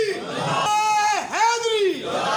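A crowd at a rasm-e-qul memorial gathering for Haji Malik Mubarik Ali chants the Takbir slogan in one brief, loud, unified shout that swells and falls, with a lead voice calling over it.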